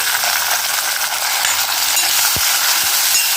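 Chopped onions and tomato sauté in a pan for a spinach bhaji, giving a loud, continuous sizzle with occasional scraping knocks from stirring.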